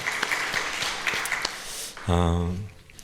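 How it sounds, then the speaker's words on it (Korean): Congregation clapping at a Friday evening Korean church worship service, a dense burst of applause lasting about two seconds before a voice cuts in over the fading claps. "주님께 영광의 박수 올려드리겠습니다."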